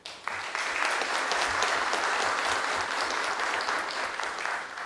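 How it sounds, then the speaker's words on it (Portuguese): Audience at a public hearing breaks into applause, a sustained, fairly loud round of clapping that starts abruptly, holds steady and begins tapering near the end. "E também merece nossos aplausos"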